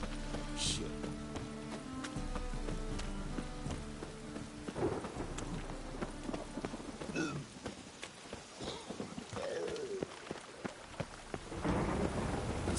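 A thunderstorm in The Witcher 3 rumbles with rolling thunder and steady rain pattering on surfaces, some hoof clip-clop and game voices speaking over it, with the storm swelling louder toward the end.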